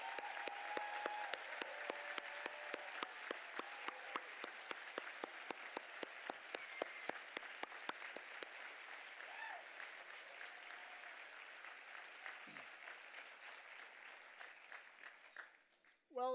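In a ballroom at a press freedom awards event, an audience claps steadily with some cheering, the applause gradually thinning and fading out over about fifteen seconds.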